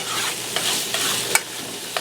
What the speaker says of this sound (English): some people say that you're already stir frying it, so that's going to do the job for you.